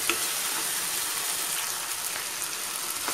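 Pepper chicken frying in a pan gives a steady, dense sizzle and crackle that holds close and even throughout, with no voices.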